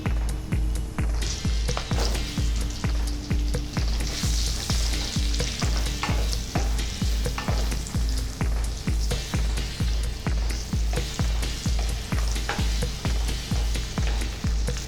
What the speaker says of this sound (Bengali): ফোড়ন ভাজা গন্ধ বেরিয়ে গেছে, দিয়ে দিচ্ছি আলুর টুকরোগুলো